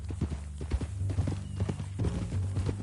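Horse hooves clip-clop steadily in the video game Red Dead Redemption 2, a close, even rhythmic trot with brief snorts, carrying on without any talk over it.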